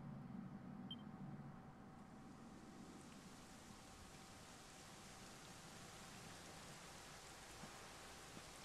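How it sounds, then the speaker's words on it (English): Steady rain falls in a scene from the video game Dragon Quest XI, a soft, even hiss of drops hitting surfaces that continues throughout, with a faint low rumble early on. "it was raining like this the last time I ever saw her"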